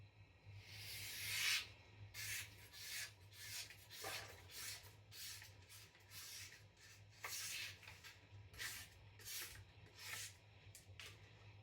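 A knife blade is drawn repeatedly across a sharpening stone in steady, evenly spaced strokes, each a short close rasp, with a low constant hum underneath and no talking.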